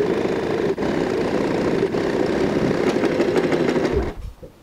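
A sewing machine runs steadily, stitching the top seam along a tote bag made from curtain fabric, its motor whirring close and continuous for about four seconds before slowing and stopping.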